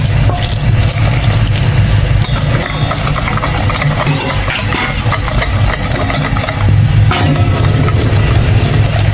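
Water pours steadily from a tap into a pot, filled to be brought to a boil for puto cheese. It is a loud, continuous rushing under a low mechanical hum, with no talking.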